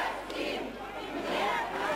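A protest crowd surrounding police officers makes a distant roar of many voices shouting and jeering together, a steady, dense din without any single clear voice.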